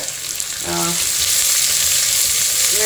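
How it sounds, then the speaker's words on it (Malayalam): Onions hit hot oil with a sudden loud sizzle that swells into a steady close frying hiss, with no talking. "ഇനി നമുക്ക് അതിലേക്ക് ആവശ്യമായ സവാള ഇട്ട് കൊടുക്കാം"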